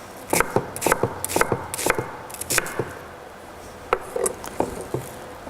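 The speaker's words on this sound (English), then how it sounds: "I'll just chop a few onions, a little bit, and then throw it in this pan to make our couscous" Onions being chopped with a knife on a cutting board for couscous, a run of quick, close, rhythmic taps, a brief pause, then another short burst of chopping.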